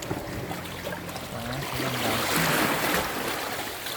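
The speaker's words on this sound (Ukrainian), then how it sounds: "А вода так гарно шумить." Sea water washing and splashing against rocks on the coast at Žuljana, Croatia, a rushing wash that swells midway, with faint wind in the background.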